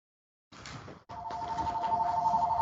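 A phone rings at home, a steady electronic ringing tone that starts after a short quiet stretch, cuts briefly, then continues and slowly grows louder.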